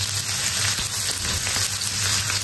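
Onion and ginger sauté in hot oil for a pork and empasa leaf soup, giving a steady, close, even sizzle with faint crackles throughout.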